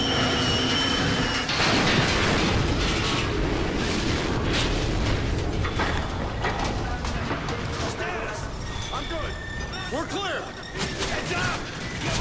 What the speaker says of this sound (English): There has to be an explosion that screws up the whole plan.